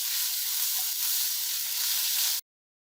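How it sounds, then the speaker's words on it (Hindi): A pan of boiled ground chicken keema gently frying gives off a steady, even sizzle close by, with no voices, until it cuts off abruptly near the end. "अब इसको हल्का हल्का फ्राई करेंगे। छः से 7 मिनट के लिए।"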